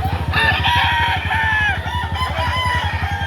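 Chickens and a rooster at a poultry market in Lipa, Batangas call and crow continuously, loud and close, over a dense rapid clucking chatter of many birds.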